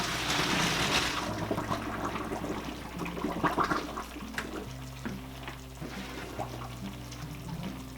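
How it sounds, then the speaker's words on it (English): Boiled pasta noodles are poured into a kitchen sink to drain, a rushing splash of water that eases into a steady trickle with a low hum beneath. "Noodles are finished boiling. We're going to drain them and then put them back in the pot."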